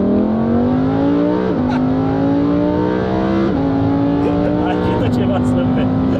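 A Lamborghini's petrol V10 engine revs in repeated rising pulls, loud and close, with a deep rasping exhaust note that dips and climbs again.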